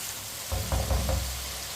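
Tomatoes fry in a pan, giving a soft, even sizzle with a few short scraping strokes from a stirring spoon in the middle. It is quiet and brief.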